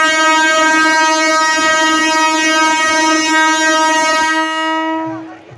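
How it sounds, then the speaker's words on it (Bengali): A train horn blares in a long, loud, steady tone for about five seconds before cutting off, with the train about to depart near a fair at Dubrajpur. "এখানে ট্রেন ছাড়বে এবারে।"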